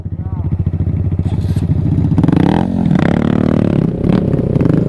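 An off-road motorcycle with an exhaust coming loose revs and accelerates close by, giving a loud, clattering, rattly engine roar that builds and holds over several seconds.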